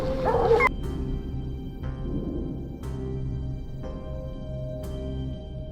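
Hunting dogs on a black bear hunt give several sharp, spaced-out barks and yips over a continuous low rumble, with one loud close bark at the start and fainter ones after.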